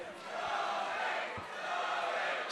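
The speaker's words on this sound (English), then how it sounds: "Sam Dobb certainly has the crowd behind him here tonight as they start to chant" An MMA crowd at a caged fight event chants a fighter's name, a dense roar of many voices sustained across the whole stretch at moderate distance.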